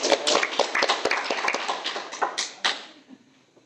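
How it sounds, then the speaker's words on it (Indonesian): Applause at a casual podcast recording, a few people clapping quickly and closely for about three seconds before it stops abruptly. "Tepuk tangan dong."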